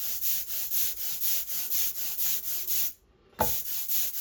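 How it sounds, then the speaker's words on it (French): An ink roller spreads printmaking ink across a surface in a printmaking studio, making a rhythmic sticky rubbing sound with regular strokes about twice a second, broken by a short pause and then resumed. "Et j'étale bien l'encre. Et on l'entend chanter."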